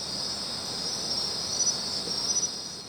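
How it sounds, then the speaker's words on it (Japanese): Crickets and other insects chirp steadily outside at night around a parked kei camper van at a roadside rest stop, a continuous high trilling at moderate level with no talk. "もう外の音は虫しか聞こえません。"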